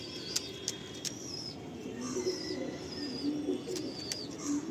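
A Lal Shira pigeon pair coos softly in a low, repeated murmur, with occasional higher chirps and clicks from nearby birds over a constant background hum.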